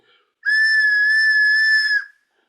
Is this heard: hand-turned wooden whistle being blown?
yes